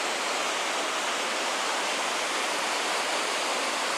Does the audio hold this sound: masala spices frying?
no